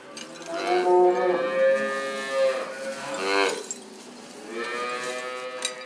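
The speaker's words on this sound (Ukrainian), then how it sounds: "треба телят поїти, що кричать цей день, вже телята голодні теж" Hungry cattle and calves on a farm moo in long, loud, drawn-out calls, several overlapping cries close by one after another.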